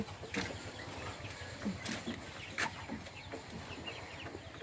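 Tiger chickens on a small farm cluck intermittently, several short calls at moderate distance over an outdoor background hiss with faint rustling.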